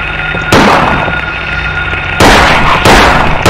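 Gunshots in the video game Silent Hill, three loud, sharp blasts spaced apart over a low ambient drone, each with a short ringing tail.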